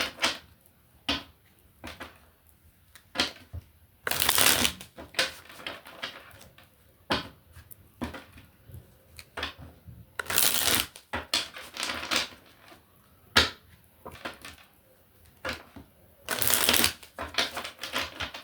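Tarot cards are shuffled in repeated riffling bursts, with crisp flutters and taps in an irregular rhythm, close and clear, and no talking over them.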